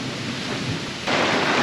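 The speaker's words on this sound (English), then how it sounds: "I like a good thunderstorm rolling through" Steady broadband roar of heavy rain during a thunderstorm rolling through Shenandoah National Park, swelling louder partway through, with no voices.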